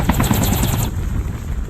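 A helicopter in the mobile shooter Call of Duty Mobile drones steadily with a rapid rotor pulse, loud and close at first, then the chopping fades and a lower rumble carries on alone.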